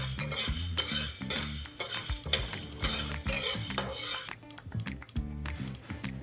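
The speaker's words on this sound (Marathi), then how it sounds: "तर ही पण आता थोडीशी आपण भाजून घेऊया." Black pepper for rasam dry-roasted in a pan, a spatula scraping and clinking steadily against the metal with a faint crackle, under a continuous backing of tonal music.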